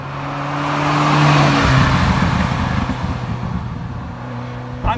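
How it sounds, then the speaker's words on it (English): A Ferrari F40 with its factory original exhaust rises into a loud, steady engine drone as it accelerates, swelling and then easing slightly with a gear change, fairly close and heard from inside or near the car, with no talk. "This car has the factory exhaust on it and there's just not all that much noise with it, unfortunately."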